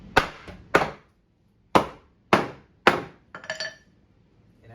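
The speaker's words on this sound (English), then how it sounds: "the first thing you want to do is hammer this bottom board to where it hits the ground" Hammer blows on the bottom board of a wobbly wall, five sharp separate strikes at uneven spacing, close and loud, then a lighter rattling clink as the last knock dies away.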